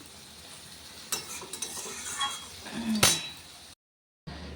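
A spice mixture for bean pods stirred and dried in a pan, with scraping and clinking strokes of a spoon over a soft sizzle, a few louder scrapes near the end before a brief silence.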